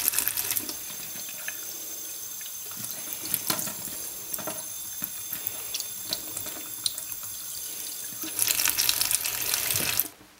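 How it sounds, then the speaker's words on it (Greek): Tap water runs at low pressure to fill and rinse a lamb intestine for traditional kokoretsi, a steady close splashing stream that swells louder toward the end before cutting off. "θα ανοίξουμε το νερό σε χαμηλή πίεση και θα αρχίσουμε να γεμίζουμε το εντεράκι με νερό"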